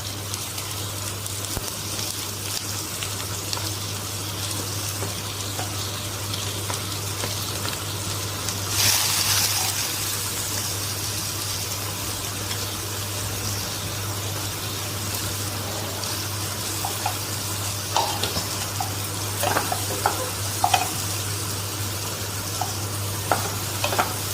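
Cumin seeds and onions fry in melted butter in a pan, making a steady, close sizzling hiss that runs throughout, with one louder splutter partway through and a few light spoon clicks near the end.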